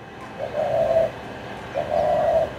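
A bird gives a peculiar call, two soft hooting coos about a second apart, moderately close against quiet outdoor background noise.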